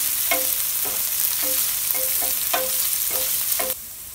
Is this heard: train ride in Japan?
no